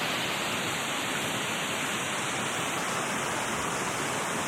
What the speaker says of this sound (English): there are waterfalls all the way up